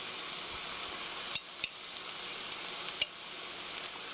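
Tomato sauce is spooned into a pan of sizzling meat sauce, giving a steady frying hiss with a few sharp spoon clicks against the pan as it is stirred.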